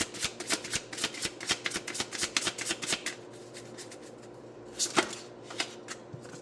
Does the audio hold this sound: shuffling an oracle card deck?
yes